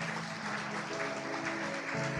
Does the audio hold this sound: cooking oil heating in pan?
no